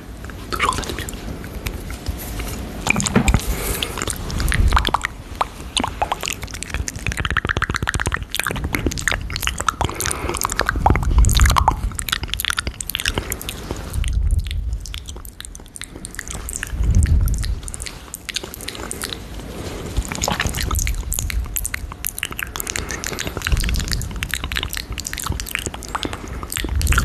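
Close-up ASMR mouth sounds with inaudible whispering: a continuous run of wet clicks, smacks and chewing-like squishes, dense and intimate with no clear speech.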